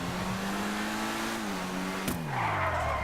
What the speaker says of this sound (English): You can pretty much flip this around with just a handbrake.